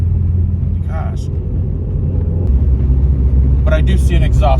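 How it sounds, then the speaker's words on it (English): Deep, loud exhaust drone of a 500+ horsepower Subaru Forester XT heard from inside the car, a steady low rumble that swells louder partway through, with brief voices speaking over it. "This car is ridiculous and loud"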